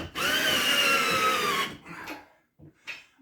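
Power tool driving a bolt into a wall while mounting a 70-inch TV, one continuous high-pitched whirring burst of about a second and a half, close and loud, followed by a few short clicks and rattles.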